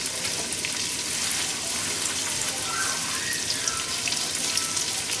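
Cabbage cooks in turkey stock in a pot, giving a steady loud sizzle and bubbling hiss with no pauses, filling the whole kitchen scene.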